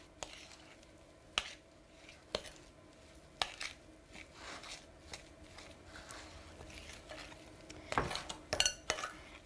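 Yogurt with chopped green chili and salt being mixed in a bowl, heard as quiet, irregular spoon clinks and scraping strokes with soft wet stirring, growing busier toward the end.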